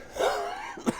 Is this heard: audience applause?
no